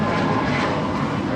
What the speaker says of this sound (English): That is American Airlines 1959 departing to Miami, Florida on an A321 Neo.